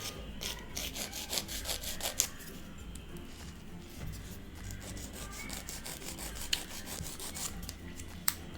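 Press-on nails are lightly filed into a square shape, a quiet scratchy rasping of repeated short strokes over a soft background hum, close and faint with no talking.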